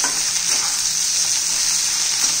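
Tomatoes frying with onion and potato for tomato poha, a steady loud close sizzle with stirring throughout and no voices.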